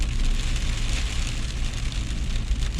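Hail falls on a car windscreen in a freezing Melbourne hailstorm, heard from inside the car as a steady, dense, even patter with a low rumble beneath it.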